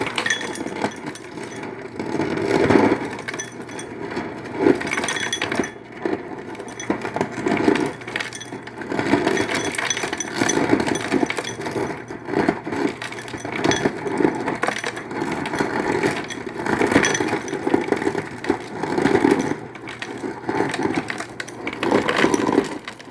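Crushed ice from the dispenser of a Samsung Family Hub French door fridge runs into an ordinary glass as a steady, close, grinding rattle of broken cubes, with a motor hum underneath that goes on for a long time; no one talks.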